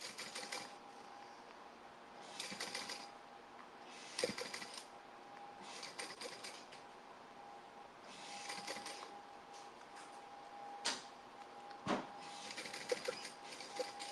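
A sewing machine top stitches a summer tote bag in several faint, rapid bursts of stitching separated by quiet gaps, with a few clicks and knocks in between.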